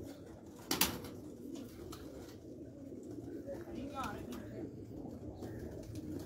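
Sialkoti pigeons coo softly and faintly amid people talking nearby, with one sharp brief knock early on.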